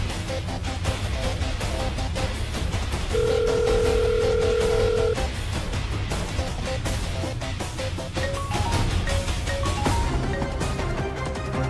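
An unanswered phone call rings out in a Marathi TV drama scene, a single steady electronic ring tone lasting about two seconds, partly buried under loud, dense background music.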